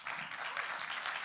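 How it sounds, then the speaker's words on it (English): A quick burst of audience applause at a metaverse festival talk, dense clapping heard briefly and fairly steadily. "let's just give a quick round of applause to BlockDown for all their incredible work"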